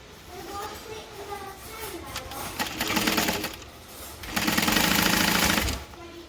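A sewing machine stitches bag lining panels with a foam layer, running in quick, steady bursts that grow louder and faster toward the end, with a voice speaking lightly underneath.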